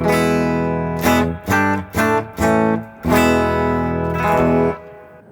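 A clean electric guitar through a Two-Rock Bloomfield Drive amp rings out in sustained chords, struck several times in quick succession and then let ring with a gradual fade.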